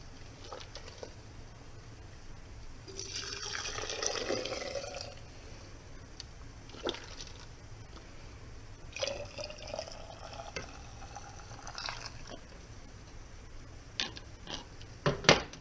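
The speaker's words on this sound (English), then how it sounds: "Measuring cup to pour the broth into the jar." Chicken broth pours from a measuring cup into a canning jar in two bursts of close liquid splashing and gurgling, separated by quiet stretches with faint clinks and drips.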